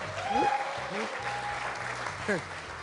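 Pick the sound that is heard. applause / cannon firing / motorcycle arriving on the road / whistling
applause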